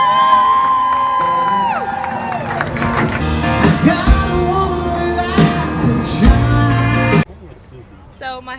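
A crowd cheers and whoops at a Nashville event, loud and dense over music, then cuts off sharply near the end, leaving faint background noise.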